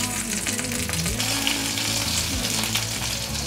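Tofu seaweed rolls brushed with flour-and-water batter pan-fry in a small pan, giving a steady, close sizzle throughout with background music running underneath.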